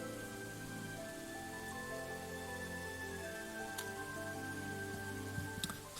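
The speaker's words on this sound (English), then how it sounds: "I think the rain sound effect seems to have glitched out because it's still playing the rain sound effect." Steady rain ambience from the video game Dwarf Fortress, a continuous even patter that plays alone throughout, with a few brief brighter drips or splashes near the end.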